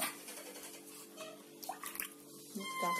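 Water is poured into a container holding tomato seedlings, a soft, thin gurgling trickle that ends in a few faint drips, heard alone at low level.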